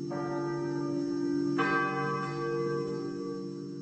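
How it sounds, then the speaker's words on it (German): Church bells in Wetzlar ring out calling to prayer, with two clear strikes whose deep, resonant tones keep humming and overlapping. "Glocken, die zum Gebet rufen"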